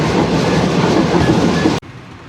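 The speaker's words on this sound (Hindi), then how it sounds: "दोपहर के 1:33 पे टंडो आदम जंक्शन को स्लो पास कर रहे हैं।" Shalimar Express train rolling slowly through Tando Adam junction, a steady loud rumble with rhythmic wheel clatter that cuts off abruptly near the end, leaving a quiet background.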